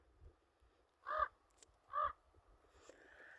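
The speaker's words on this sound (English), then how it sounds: "There's a crow right on the edge of that rock over there." A crow perched on the edge of a rock gives two clear, evenly spaced caws about a second apart, moderately distant against a quiet outdoor background.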